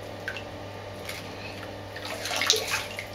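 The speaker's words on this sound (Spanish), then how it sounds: "¿te estás bañando?" Water sloshes and splashes gently as a child bathes in a bathtub, with soft drips and a brief burst of louder splashing toward the end.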